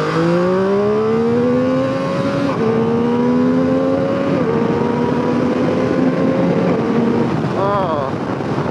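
A 2021 MV Agusta Turismo Veloce RC SCS adventure motorcycle accelerates hard through several gears, its engine note rising in long sweeps with quick drops at each shift, heard close and loud over steady wind rush.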